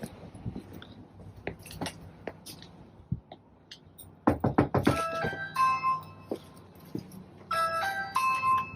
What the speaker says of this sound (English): So I'm definitely going to knock on this door.